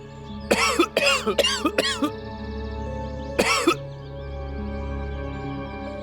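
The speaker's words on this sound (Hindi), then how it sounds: "थोड़ी सी खांसी है।" A man who is ill coughs in a rapid cluster of four harsh, rasping bursts, then, after a short pause, one more cough trails off into a quiet room.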